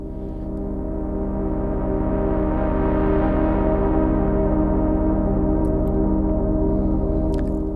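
Layered ambient synth pad from a sound pack, played on an Ableton Push 3: a thick, steady sustained chord with a rich low body, holding evenly loud for several seconds and brightening slightly in the middle, with no voice.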